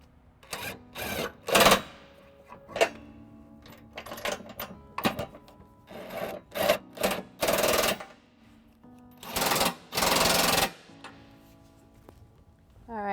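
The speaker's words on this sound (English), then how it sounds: "we're going to use a cordless impact, 5" and 11/16 to tighten up the nuts" A cordless impact wrench with an 11/16 socket tightening trailer hitch nuts on a 2018 Subaru Forester, heard as loud, close bursts of rapid hammering, several short rattling runs and longer sustained ones separated by pauses, with no talk.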